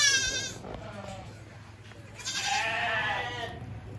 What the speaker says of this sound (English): Don't see very many wool sheep around here.